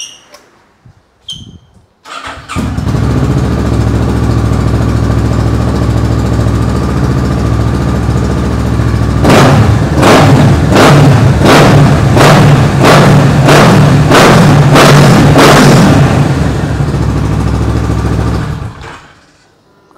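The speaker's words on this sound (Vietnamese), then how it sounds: "Cho anh em nghe tiếng Ninja 650." A Kawasaki Ninja 650 motorcycle engine and exhaust idle loudly and steadily up close, then the throttle is blipped about eight times in a row. The revs settle back to idle before the engine cuts off.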